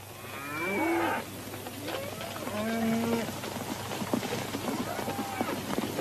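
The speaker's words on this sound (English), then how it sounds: "They've rounded up the cattle." In a western film, a herd of about 25 rounded-up cattle moo in long, low calls over the shuffle of the moving herd, with hooves and voices in the background.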